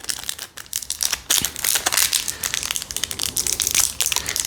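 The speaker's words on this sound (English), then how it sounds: "If I can get into these plastic pouches." Plastic parts pouches from an RC rock crawler kit being handled and torn open, loud close crinkling and crackling in rapid irregular bursts, with no talk.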